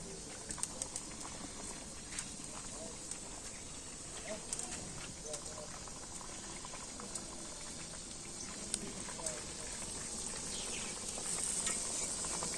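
Eggs go into a curry that is nearly done cooking, and the pan keeps up a soft, steady sizzle and bubbling. A few faint clinks and light background sounds are mixed in.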